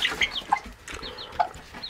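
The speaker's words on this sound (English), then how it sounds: "Good morning, Mama Chicken" A mother hen clucks in short, soft bursts with a few higher chirps, likely from her chicks, close by and alone with no talking.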